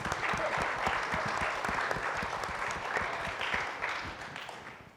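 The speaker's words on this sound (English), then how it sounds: "Can we clap for Lockheed, you guys?" A room full of people at a space technology event clapping steadily, a dense patter of applause that holds at an even level before tapering slightly at the end.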